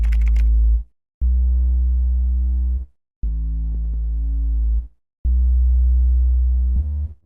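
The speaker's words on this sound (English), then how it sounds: "Next I used this serum bass." A Serum Reese bass preset with its saw swapped for a sine wave and a triangle sub oscillator plays three long, loud, deep sustained notes separated by short silences, dark and smooth with a faint buzzy edge.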